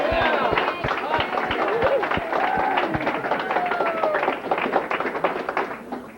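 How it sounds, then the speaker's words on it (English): A studio audience at a 1998 telethon claps steadily for about six seconds, a dense run of sharp hand claps with voices and cheering mixed in throughout. "Can we have a round of applause?"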